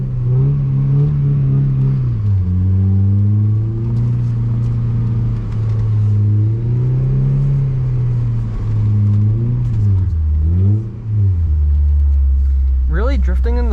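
A Mazda Miata drifts in snow, its engine droning loud and close throughout, with pitch rising and falling as the revs swing up and down during the slides.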